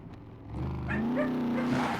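A dog in the survival video game SCUM gives a short burst of nearby barking and whiny yelps, lasting about two seconds and standing alone without speech.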